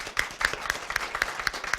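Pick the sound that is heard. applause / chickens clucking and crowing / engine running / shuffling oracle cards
applause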